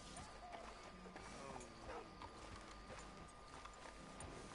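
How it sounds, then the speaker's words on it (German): Horse hooves walking at a steady clip-clop pace in the Red Dead Redemption 2 video game, moderately loud over a constant bed of ambient game noise. "Mit dem Pferd ein bisschen durch die Gegend laufen"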